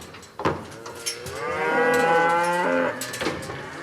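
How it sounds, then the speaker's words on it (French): A cow in an intensive Swiss livestock operation lets out one long, loud, close moo with a rising then falling tone, lasting over a second, amid brief knocks and handling noise in a barn. "Viens la vache, elle est belle cette vache."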